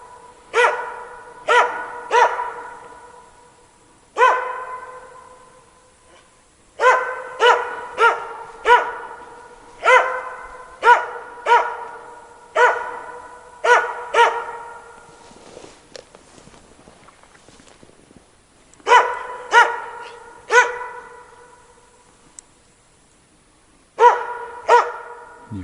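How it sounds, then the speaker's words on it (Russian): A dog barks repeatedly in a snowy hunting forest at night, sharp loud barks in bursts of two to four with pauses between, fairly close, no talk. "Кого он лает там?"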